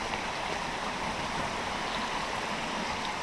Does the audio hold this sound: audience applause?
no